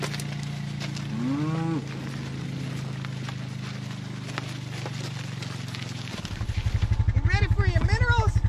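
Cattle moo repeatedly during a pasture move through an opened gate, several drawn-out calls up close over a steady low engine-like hum, with a louder rhythmic rumble joining near the end.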